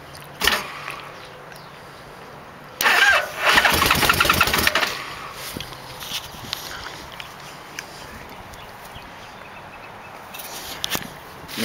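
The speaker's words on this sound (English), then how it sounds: "Choke's on, it's got some gas in it, and see if it starts." A 1989 Yamaha Vmax motorcycle with the choke on cranks briefly, then a loud burst of starter whirring and catching lasts a couple of seconds before settling into a quieter rough idle, recorded close by.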